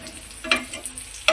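Egg masala is sautéed in a pan, with a soft sizzle under a few light scrapes and taps of a spatula, one sharper scrape at the end, and no voices.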